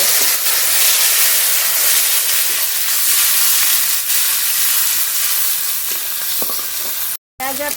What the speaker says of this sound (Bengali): পেঁয়াজ কুচি আর টমেটো কুচি একসঙ্গে হালকা করে কষিয়ে নেব